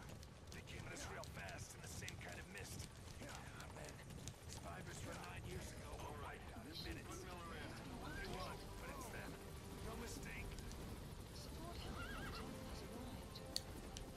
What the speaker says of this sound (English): Silly horse.